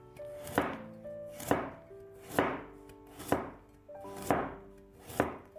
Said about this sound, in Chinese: 1根去皮的胡萝卜先切成薄厚均匀的片儿，